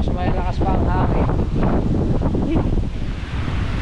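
Strong wind buffets the microphone on a white-sand island beach at high tide, with waves surging in a steady, loud roar throughout.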